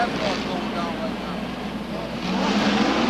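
Pro stock cars at Seekonk Speedway restart together and accelerate back to speed, a dense continuous engine roar from a distance that builds slightly toward the end, with a commentator talking over it.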